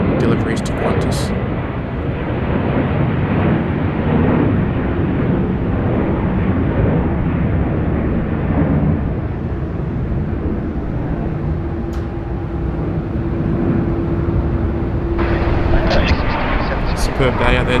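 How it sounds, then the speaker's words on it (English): A Qantas Airbus A330 in 2017 livery rolls for departure off runway 34 left at Sydney Airport, a loud, sustained broadband jet roar that stays steady throughout, heard from nearby. "Qantas A330 just getting underway as well, off 3-4 left, wearing the new 2017 livery."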